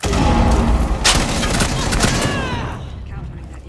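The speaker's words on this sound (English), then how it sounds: "Cluster shot, going." Cluster shot explosions in a video game, a loud rapid string of thumping blasts and crackles that rolls on for a couple of seconds, then fades out.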